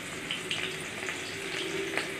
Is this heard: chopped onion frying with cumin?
yes